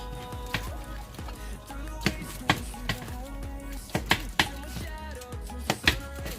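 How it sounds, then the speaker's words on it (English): A knife chops cooked ribs into sections: a run of sharp, irregular thuds on a board, up close over a steady low background hum. "Chop them up. Sections."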